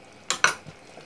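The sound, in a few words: stirring sauce with starch mixture in a pan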